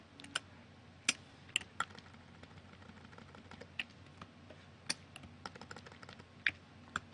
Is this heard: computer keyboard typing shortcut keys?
yes